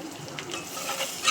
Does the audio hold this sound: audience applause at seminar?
no